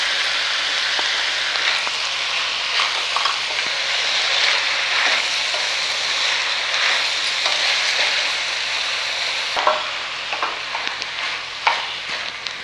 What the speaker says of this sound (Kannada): ನಾನು ಟೊಮೆಟೊ ಹಾಕೋತಾ ಇದ್ದೀನಿ.